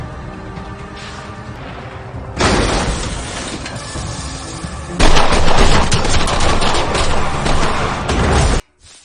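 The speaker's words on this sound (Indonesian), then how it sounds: "Panglo yang berhasil sampai di sana menembak anak buah Tuan Ma hingga mati" Heavy gunfire from an action film: dense, rapid bursts of shots rattle continuously at high volume, growing even louder midway before cutting off abruptly at the end.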